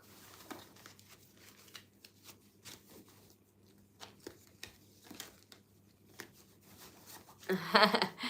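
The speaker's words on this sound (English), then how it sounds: "shuffling the cards for Cancer" Soft papery riffles and taps of tarot cards being shuffled up close, in scattered bursts, growing louder and busier at the end.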